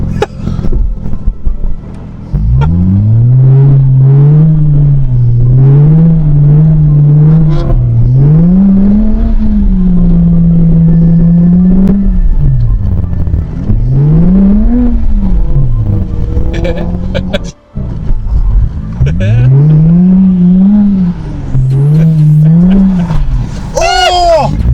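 The single-turbo BMW E92 drifts on a frozen lake, its engine revving loud and close through several rising and falling sweeps as it runs up through the gears, with a brief dropout partway through.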